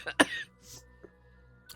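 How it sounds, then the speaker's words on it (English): A streamer coughs in a sharp burst of two or three harsh hacks close to the mic, followed by a softer throat-clearing rasp and a couple of faint afterthoughts. "Okay, now I'm done coughing."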